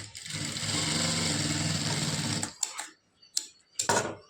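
A sewing machine stitches a fold in a lined blouse with a steady mechanical whir for about two and a half seconds, then stops. A few short clicks and brief bursts of handling follow, with no talking.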